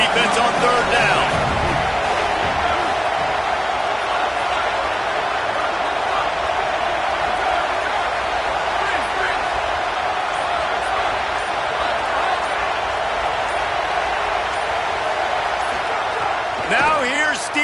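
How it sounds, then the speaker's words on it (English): Dense, steady roar of a football stadium crowd building noise as the defense lines up on third down, a broad continuous wash of cheering with no clear pauses. "Decibels rising as the crowd gets behind this defense on 3rd down."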